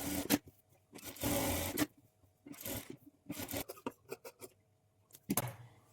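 A sewing machine runs in short bursts while stitching the lining of a blouse, with brief pauses between runs and faint handling noises of cloth being shifted and trimmed.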